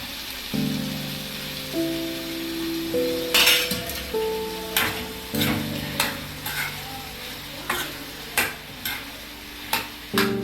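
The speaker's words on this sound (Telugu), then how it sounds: "వంకాయ ముక్కల్ని వేసేస్తున్నానండి." Brinjal pieces tumble into a pan for tomato brinjal curry, followed by a run of metallic clinks and scraping stirs over a soft frying hiss, close and fairly loud.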